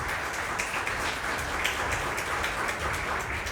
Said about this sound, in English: A round of applause for the guest.